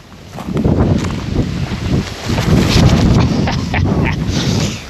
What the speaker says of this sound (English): Big wind blowing.